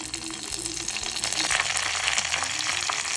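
Mustard seeds and curry leaves sizzling and crackling in hot oil, a dense, close frying hiss with scattered pops and sputters throughout.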